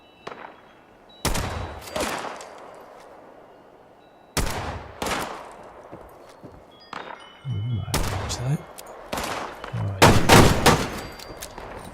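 Heavy gunfire in Fallout 76 sounds in several loud, sharp bursts with long tails, separated by pauses, with a low engine-like rumble partway through and faint game ambience between shots.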